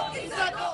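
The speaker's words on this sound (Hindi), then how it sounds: "गवर्नर हाउस के सामने मुजाहरीन ने प्ले कार्ड उठाकर शदीद नारेबाजी की" Protesters holding placards outside Governor House shout slogans together, a loud, brief crowd chant with mixed voices close by.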